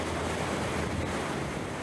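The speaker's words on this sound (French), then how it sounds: "Voir enfin l'Hermione se frotter aux vagues." Sea waves wash and rush steadily against the wooden hull of the sailing frigate Hermione, a continuous broad surf roar mixed with wind noise on the open ocean, loud and close with no voices.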